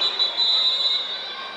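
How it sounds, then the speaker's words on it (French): A referee's whistle during a Proligue handball match between VHB and Besançon gives one sustained, shrill, steady blast, loud over a low hum of arena noise. "Il y a un coup de sifflet."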